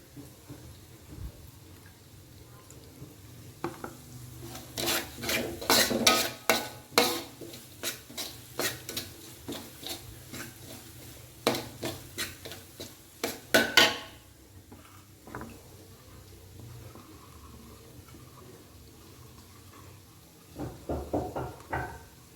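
Seasoned chicken and tempeh are stirred in a pan for a family end-of-year grill: clustered scraping clinks of a utensil against metal in bursts, then a quieter stretch and a few final knocks, close with no talking.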